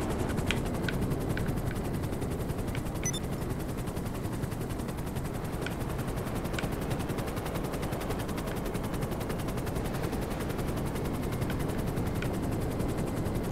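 A Nagasaki Havoc, a small fast helicopter in GTA 5 Online, whirs on without a break as a dense, even rotor and engine roar with faint clicks scattered through it.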